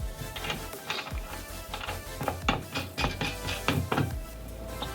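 A bolt and nut are tightened on a light bar bracket for a Ford Bronco, giving a series of close mechanical clicks and knocks in an uneven ratcheting rhythm, with no talking.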